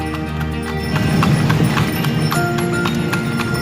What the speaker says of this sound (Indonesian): Ini aku lagi menikmati naik delman.